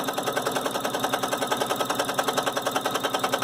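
A domestic sewing machine runs steadily along a straight seam, its needle making a fast, even mechanical chatter with a regular rhythm. The machine is close and fairly loud, and there is no talk.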